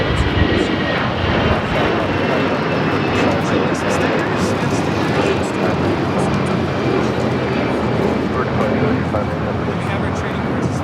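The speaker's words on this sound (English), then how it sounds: "That was a Legion Air Flight 597 heading Indianapolis" Legion Air jet taking off from LAX on a flight to Indianapolis, a loud steady roar of engines filling the air with broad rumble throughout.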